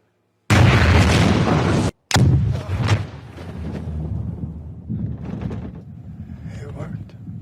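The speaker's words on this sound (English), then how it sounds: "Following the successful nuclear test explosion" A nuclear test explosion: a sudden, massive boom erupts into a loud, dense roar, breaks off briefly, then returns and slowly decays into a long, low rumble.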